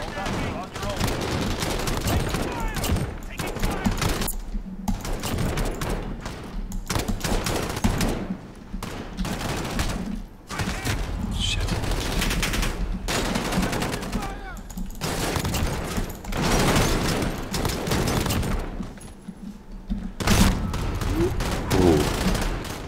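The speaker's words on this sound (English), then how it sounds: "I'm going to try this one here, the Odin assault rifle" Odin assault rifle fire in Call of Duty: Modern Warfare, Gulag mode, comes in repeated loud bursts of rapid automatic shots with brief pauses between volleys, alongside in-game noise and some voice.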